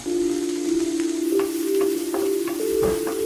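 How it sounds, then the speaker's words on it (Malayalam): Sliced onions fry in a pan with a pinch of salt while being stirred toward golden for a malai kofta curry. A steady close sizzle carries light scraping strokes and a constant low tonal hum beneath. "എന്നിട്ട് ഇത് ഇളക്കി സവോള ഒരു ചെറിയ ഗോൾഡൻ കളർ ആവുന്നോളം വരെ മൂപ്പിക്കുക."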